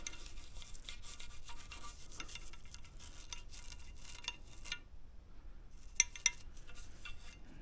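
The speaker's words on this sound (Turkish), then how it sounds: "Burayı da diş fırçamızın yardımıyla en ufak yerleri bile temizleyeceğiz" Toothbrush scrubbing small crevices of a disassembled kinetic-action hunting shotgun during cleaning, a steady close rubbing rasp that pauses briefly, then resumes with a couple of small metallic clicks.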